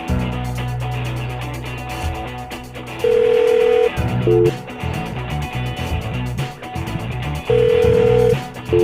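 Phone call that fails to connect: a repeating electronic tone sequence with steady hums and sharp higher beeps sounding in bursts, loud and close, interleaved with other synthetic telephone signals.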